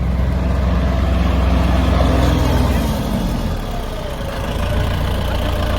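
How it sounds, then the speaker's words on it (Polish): Farm tractor engine rumbling and idling as it pulls up to help a Scania truck stuck in a field, a steady, loud low-pitched drone that shifts slightly partway through, with voices faintly underneath. "Teraz do pomocy traktor. Traktor podjechał."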